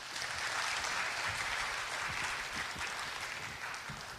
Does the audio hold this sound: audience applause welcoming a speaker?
yes